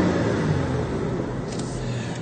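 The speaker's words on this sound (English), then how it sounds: "I'm going to give the car a bit of a rev now." A Mercedes-Benz S320 W220 sedan with about 165,000 km on it is revved while parked, producing a low, quiet engine rumble that swells briefly with a smooth, muted tone.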